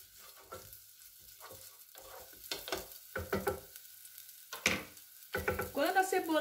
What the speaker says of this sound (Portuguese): Aqui a gente já refoga também a nossa cebola.